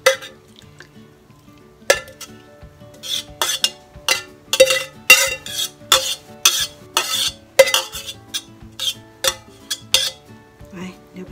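Utensils clatter and scrape against dishes in a run of sharp, irregular clinks and taps as duck larb is served onto a plate, close and fairly loud with no talk.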